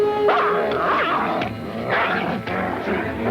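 Lassie the collie from classic film barks and whimpers in a few quick, excited bursts, close and fairly loud over a busy soundtrack-like background.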